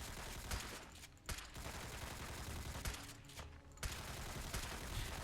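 Repeated shotgun blasts from a Remington Model 870 in the game Fallout 4, loud broadband bursts fired in an irregular volley over dense, constant battle noise.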